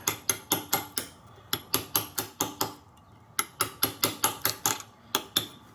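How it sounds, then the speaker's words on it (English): Steel chisel chipping old grout from between hexagon floor tiles, a rapid run of sharp, close clicking taps in two bursts with a short pause between, no talk. "maybe I can use this chisel"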